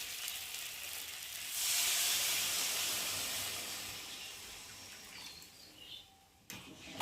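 Water poured into frying masala in a pan for a fish roe bora curry bursts into a loud hiss and sizzle, then gradually settles into a softer simmering hiss, ending with a few clattering knocks.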